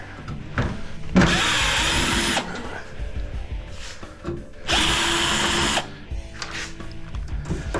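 Power drill driving out security screws from a microwave oven casing, two long whirring bursts of about a second each with shorter buzzes and rattling handling between, close and loud.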